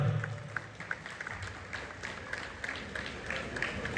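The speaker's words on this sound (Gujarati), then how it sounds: "એકવાર મોદી સાહેબ માટે જોરદાર તાળી પાડજો" An audience at a Navratri festival claps for Modi. The applause is moderate and sustained, with a patter of hands over crowd murmur.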